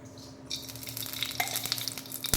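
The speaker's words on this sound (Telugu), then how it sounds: "లైట్గా దూరగా వేగే వరకు ముంతమాడిపప్పు వేసుకున్నాను" Cashew nuts frying in ghee in a pan while making rava kesari, a steady bright sizzle that swells in after a brief quiet start and crackles on close and fairly loud with no talk.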